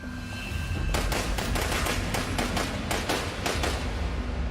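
A rapid burst of gunshots rings out in quick irregular succession, loud and sharp, one after another for several seconds with no voices.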